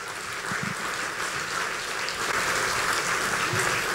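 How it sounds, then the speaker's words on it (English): Audience applause at a council meeting, a continuous wash of many hands clapping that holds evenly for several seconds, moderately distant and not very loud. "Let's give you guys a huge round of applause."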